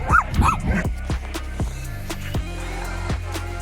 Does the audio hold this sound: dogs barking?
yes